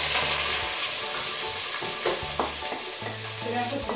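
Onion sautéing in a pan for pumpkin cream soup, a constant near sizzle broken by clinking, scraping stirs of a utensil against the pan, with no one talking.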